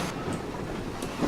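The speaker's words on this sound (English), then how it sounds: "Now, we need to get this train underway." Train rolling along track in the Grove Valley train simulator, a steady low rumble with faint rhythmic clatter, a continuous mid-level drone with no speech.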